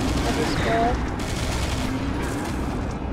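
Minigun fire in Serious Sam 3 BFE, a continuous dense roar of rapid shots that runs unbroken at steady loudness for the whole stretch.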